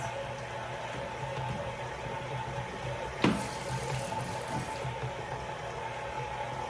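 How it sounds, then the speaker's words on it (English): Hands being rinsed under a running kitchen faucet, a steady close water stream with a brief splashy burst partway through, while making cream cheese sausage balls. "I'm gonna rinse my hands."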